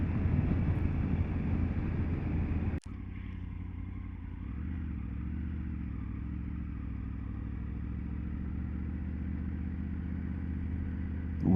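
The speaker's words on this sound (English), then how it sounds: "We're here to ride some vintage motorbikes." A motorcycle engine idles steadily with a low, throbbing rumble, broken early by a single sharp clunk, with wind noise in the background.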